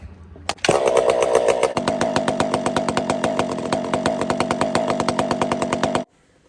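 Husqvarna 500i-series chainsaw starting up and running hard while bucking firewood, its loud muffler giving a harsh, buzzing roar that surges, then settles into a steady rapid pulsing drone before cutting off abruptly.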